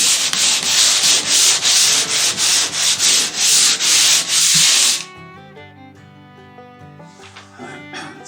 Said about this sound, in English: You're ready to sand down again.